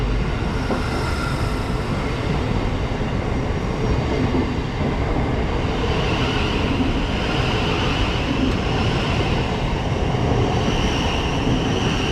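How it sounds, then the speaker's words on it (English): A Thameslink Class 700 electric multiple unit pulls out of Crawley station, filling the scene with a loud, steady rumble and a hissing, rushing roar that holds constant throughout, with no voices. "700-109 heading out on the 1608 Thameslink service to Peterborough from Horsham."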